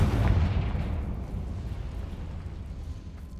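A Confringo fire spell explodes in the Hogwarts Legacy game on PS5: a loud low boom at the start rolling into a long rumbling decay, with no talk.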